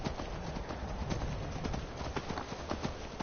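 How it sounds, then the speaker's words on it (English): A horse gallops across the landscape in the Skyrim video game, its rapid rhythmic hoofbeats drumming steadily under dense, continuous game ambience. "Yeah, the horse can run."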